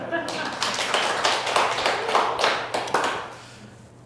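A church congregation claps briefly during a sermon, a spread of scattered hand claps over a low room hum that fades out near the end.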